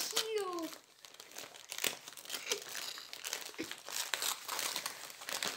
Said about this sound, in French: Désolée pour le bruit du papier.